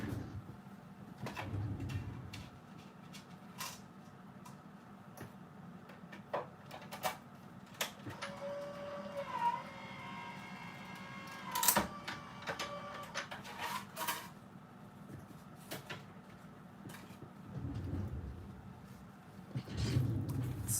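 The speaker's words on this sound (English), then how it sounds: "I'm just going to run that through the machine real quick." A manual die-cutting machine cranks paper through a scalloped border die, making a quiet, uneven run of rolling, clicking and grinding noises with a few sharper ticks. The sound is close and carries no talking.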